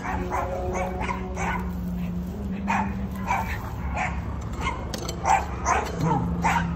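A small dog yaps repeatedly in short, sharp barks over a steady background hum, with occasional whimpers between them.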